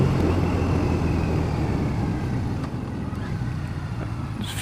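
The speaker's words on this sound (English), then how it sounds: "You just listen to the sound of the engine" A 2014 Triumph Bonneville motorcycle engine gives a steady, loud drone with strong low rumble throughout, slightly easing halfway, with wind buffeting over it during a ride.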